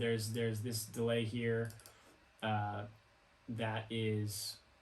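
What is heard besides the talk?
No everyday noises stand out.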